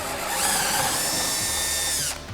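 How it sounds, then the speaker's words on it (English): A power drill bores holes into a wooden travel frame, its motor whining steadily at high pitch for about two seconds before abruptly cutting off, close and loud with no talking. "The next step is drilling."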